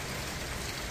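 Light, steady rain falls during a drizzly long weekend in Canada, a soft continuous patter heard alone at close range with no speech.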